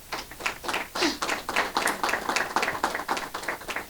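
Church congregation applauding during a Sunday service, loud rhythmic clapping with sharp individual claps standing out over a dense crowd patter, steady for several seconds.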